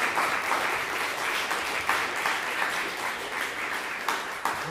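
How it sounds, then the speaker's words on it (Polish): Applause for the presenters at a philosophy club meeting in Poznań, a steady, moderately loud patter of many hands with a few sharper claps standing out. "wielkie brawa jeszcze raz za prezentację"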